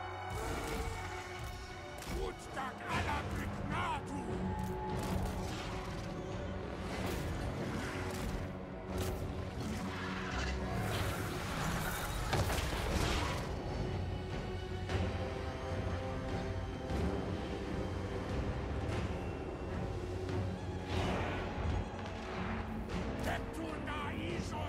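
Explosions in a Total War: Warhammer battle, deep booming crashes and thuds rolling one after another over a dense, loud wash of game battle noise and rumble, with no talk.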